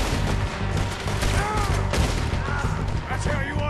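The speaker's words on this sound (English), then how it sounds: "really not used to the shooting in this." Gunfire crackles through a Red Dead Redemption 2 shootout, with dense overlapping shots and bursts at close range, and a voice talking over the fighting.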